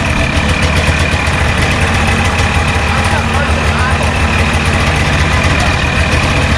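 A 1989 Arctic Cat Jag 440cc snowmobile engine idles steadily and loudly up close, a dense, even two-stroke drone that holds without revving while people talk over it.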